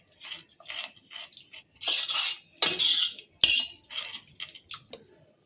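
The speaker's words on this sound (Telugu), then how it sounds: "దీన్ని మెత్తగా ఇలా మంచిగా మెదుపుకోవాలి." Soft cooked dal is mashed in a metal pot with a spoon or masher, giving a run of scraping, clinking strokes in uneven bursts. It is close up and heard alone.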